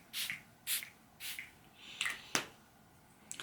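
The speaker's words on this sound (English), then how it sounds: "I'm going to spray a bit to you." Aquamarine spray misted from a small bottle in several short, soft hissing bursts, close and fairly quiet, with brief pauses between pumps and no talking.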